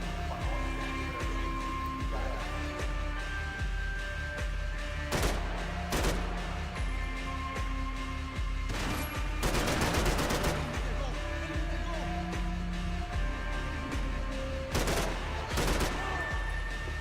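Gunfire from Max Payne 3 crackles in repeated sharp bursts, with dense volleys around the middle and later shots, over a steady game soundtrack of sustained tones.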